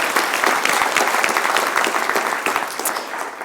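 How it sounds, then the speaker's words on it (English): Applause from a conference audience in London, a dense steady patter of many hands clapping close and loud for the full stretch, easing slightly toward the end with no talk over it. "Can we give Vanessa a round of applause?"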